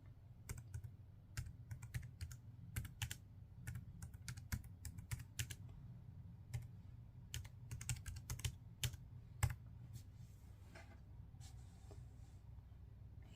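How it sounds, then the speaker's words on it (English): Keys click on a Bluetooth keyboard case for a Samsung Galaxy Z Fold4, a quiet, close run of light irregular taps in quick bursts with brief pauses, and no voices. "You can see it's typing away."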